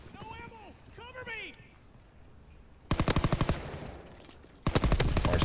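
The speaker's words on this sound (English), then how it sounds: "Snipers there, you see, everybody's sniping." Sniper gunfire and rapid bursts crack loudly in a World War II-era shooter game with V2 rockets, following whistling sounds, with a voice talking over the start.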